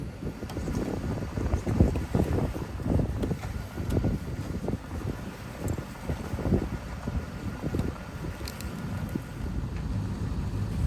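Strong wind roars during a snowstorm in Quebec, with rough gusting buffets hitting the microphone close up for several seconds and no one speaking.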